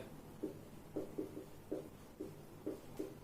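Chalk or marker writing numbers on a classroom board during a statistics lesson on finding the mode, heard as a run of short, soft scratchy strokes in irregular bursts. No one speaks.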